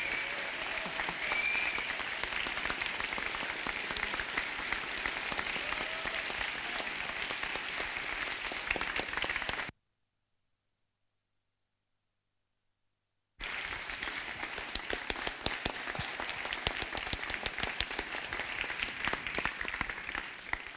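Sustained applause from a young audience at a youth hackathon award ceremony, dense and steady clapping that fills the room, broken by a few seconds of silence before resuming at the same strength.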